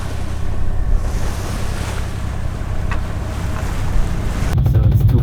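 Waves wash against a sailing boat on a calm North Sea, a steady broadband rush of water and wind buffeting the microphone, with a low hull thump near the end.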